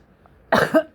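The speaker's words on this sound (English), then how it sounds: "I'm sorry for coughing." A single harsh cough, close and loud, after a near-silent stretch; a short second burst follows right after.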